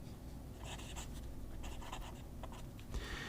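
A Delta Dolce Vita Mini fountain pen nib scratches across paper in short, close strokes, soft and papery with pencil-like feedback, over a steady low background hiss.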